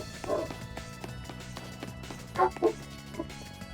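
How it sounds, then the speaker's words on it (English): Dogs bark in the background, a few muffled, mid-distance woofs over a steady hum of room noise, faint and intermittent. "You stupid fucking dogs that like bug at every hour of the day, every hour of the night."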